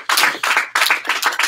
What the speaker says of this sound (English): let's give Nick a big round of applause